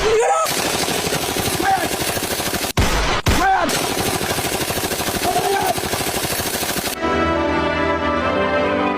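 Sustained, rapid gunfire in an animated war between Bangladesh and India hammers away loudly and continuously, broken by one brief gap, then cuts off as a steady tonal sound takes over.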